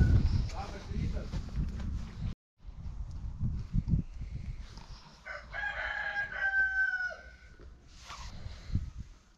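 Free-range chickens on a farm: a rooster crows clearly partway through, with soft clucking and footsteps around it, while people talk nearby over most of the clip.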